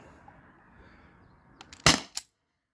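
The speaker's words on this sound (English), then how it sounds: "last magazine, if it shoots at all, is all nylon balls" A modified T4E HDP50 Gen 1 CO2 pistol fires 1.4 gram nylon balls, two sharp close cracks in quick succession, one louder, with a faint click just before, over a quiet hiss.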